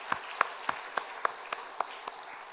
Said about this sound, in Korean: 박수로 축복하시겠습니다.